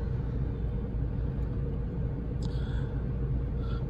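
Jeep Compass Longitude T350, a 2022 model, crawling through congested city traffic, giving a steady low rumble heard from inside the cabin with no talking.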